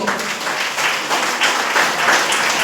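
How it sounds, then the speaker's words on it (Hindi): Audience applause at a party gathering in Janakpur, a short burst of dense, loud clapping that continues without a break. "हर्षित के तरफ से एक जोरदार ताली हो"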